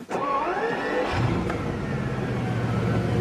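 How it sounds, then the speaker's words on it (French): A Bugatti Veyron's 1001-horsepower W16 engine cranks and fires up, a loud starter whine rising into a steady, rumbling idle that fills the close cabin. "Et là, le W16 se met en marche."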